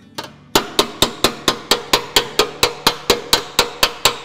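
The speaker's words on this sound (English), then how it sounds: "Sometimes a crease like this, you'll want the dolly to come right in behind it and then hammer down till you hear the dolly" Hammer striking a creased metal panel backed by a dolly during dent repair: about fifteen sharp, evenly spaced ringing metallic blows, close and loud, following a softer first tap.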